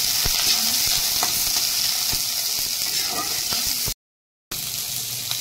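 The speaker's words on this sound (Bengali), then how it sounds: "আমি পেঁয়াজ তেলে দিয়ে দিলাম। এবার আমি একটু পেঁয়াজটা নেড়ে নেবো" Sliced onion fries in hot oil while being stirred for a kohlrabi, potato and puti fish curry, giving a continuous close sizzle with soft scrapes and a brief silent break near the end.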